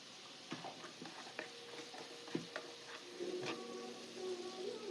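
Onions and green chillies frying in oil on a medium flame with salt and turmeric, a faint steady sizzle with soft scattered clicks and stirring scrapes of a spoon in the pan.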